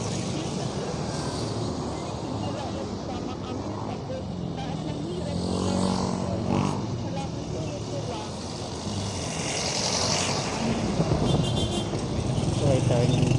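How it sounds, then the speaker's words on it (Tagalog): Many motorcycles passing on a busy city road in Parañaque, a continuous roar of engines with rising and fading passes up close, mixed with other traffic, while people talk over the noise. "Pa rin mga motor guys, ang daming motor diba?"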